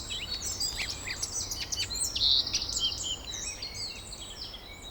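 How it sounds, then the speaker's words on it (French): A melodious warbler sings outdoors in a rapid, chattering, varied phrase of high notes that runs on continuously, fairly near and clear over a quiet background. "il y a l'hippolaïs polyglotte qui chante"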